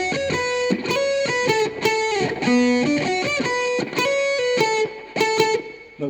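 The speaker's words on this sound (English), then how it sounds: "for ukulele with distortion on" Distorted ukulele playing a punchy riff, strummed chords with gritty, buzzy sustain and a steady rhythm, close and loud with no voices.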